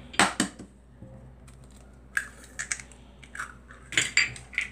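Eggs knocked and cracked into a mixing bowl while preparing mini pizza dough, giving several sharp, close clicks and taps in short bursts separated by quiet gaps, with no talking.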